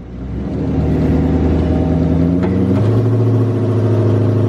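A car engine revs during a burnout, rising from a low idle to a loud sustained roar with shifting pitch, then settling into a steady lower drone, close and alone.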